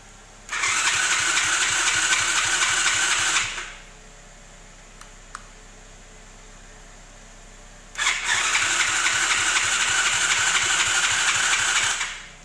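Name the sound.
abandoned quad bike engine cranking and starting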